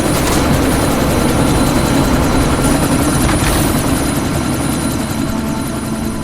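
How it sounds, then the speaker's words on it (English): A helicopter in the video game Deus Ex: Mankind Divided idles on the pad before takeoff, its steady loud rotor and engine roar filling the scene without pause. "That chopper's about to take off!"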